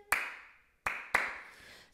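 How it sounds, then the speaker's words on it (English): Foot stomps during a group singing of a Mother Goose canon: three sharp, separate percussive hits, two close together after a gap, each fading quickly, heard alone without voices. "We're doing a little foot stomp there"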